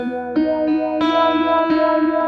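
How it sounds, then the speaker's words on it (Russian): A Shift Line Prism III effects pedal on its Extended Range WA algorithm processes an instrument, giving sustained, shimmering chorus-like tones that change pitch in several distinct steps, up close and alone. "Выбран алгоритм Extended Range WA и связанная с ним программа."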